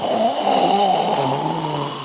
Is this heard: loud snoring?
yes